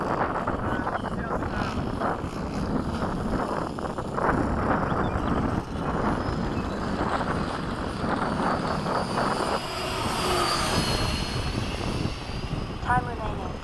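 Freewing 90mm F-15 model jets make a low pass over a flying field, their ducted-fan roar steady and fairly close, swelling toward the end amid background noise and people talking.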